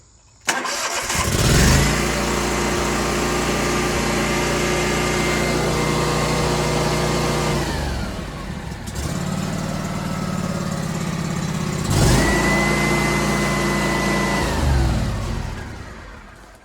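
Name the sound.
Scag V-Ride 2 mower engine, Vanguard 37 HP, throttling up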